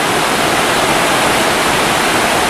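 A meltwater river roars out of a cavern beneath Cox Glacier, a tidewater glacier, making a loud, unbroken wash of rushing water that stays even throughout with no voices.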